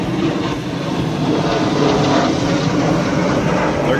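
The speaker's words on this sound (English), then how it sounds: "There goes two F-18s." Two F-18 fighter jets pass overhead above a military town, a loud, broad, continuous roar that swells slightly and holds with no speech.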